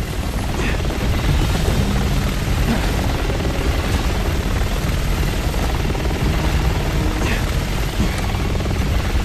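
A helicopter in the video game Resident Evil 6 keeps up a loud, steady rotor roar and engine drone for the full nine seconds, with faint game sounds underneath.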